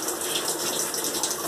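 Tap water runs steadily onto a newly tiled bathroom floor laid over wooden boards, draining into the floor drain with a continuous, even splashing hiss close by.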